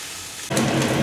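Pork sizzling in its own rendered fat in a pan, ground for ginisang ampalaya, breaking into a steady crackling hiss after half a second of quiet, loud and close.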